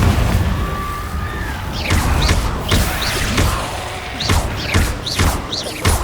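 Repeated blast impacts from Confringo and Descendo spells in the video game Hogwarts Legacy, a rapid series of booming thuds and crackling bursts over a constant loud battle din, with whooshing casts between the hits.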